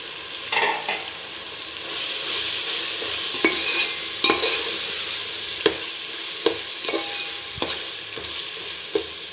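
Chili powder and garam masala frying in a pan for chicken biryani, with a steady close sizzle and occasional sharp clicks and scrapes of a spoon stirring the masala, and no voices.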